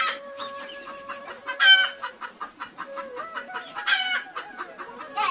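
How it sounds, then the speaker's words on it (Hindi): A tethered rooster crows loudly and repeatedly nearby, its strained calls mixed with steady clucking, with no other sounds around it. "जोर ले कुकड़ू को करके झगड़ा माँ अपन भाग देवत रहिस।"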